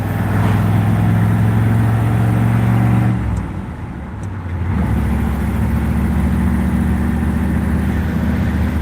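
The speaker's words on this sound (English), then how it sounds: "This thing's got a 454 engine in it. It's a big block. Heavy duty." Heavy-duty truck with a 454 big-block engine heard from inside while driving on an autumn road, a loud steady low engine drone that dips briefly as it shifts or eases off, then builds again.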